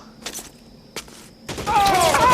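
Gunfire in the 1940s Los Angeles detective game L.A. Noire, two sharp separate shots followed by a louder burst of fire with voices shouting over it.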